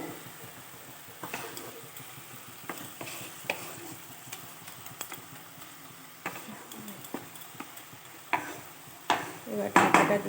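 Leafy greens cooking in a pan with a little water, a soft ongoing sizzle under repeated spatula scrapes and clatters that grow louder and busier toward the end.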